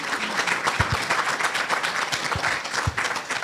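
An audience at a women's leadership workshop applauds steadily, a dense, even wash of many hands clapping for the whole stretch, with a few low thumps underneath.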